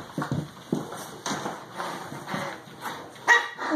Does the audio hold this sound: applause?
no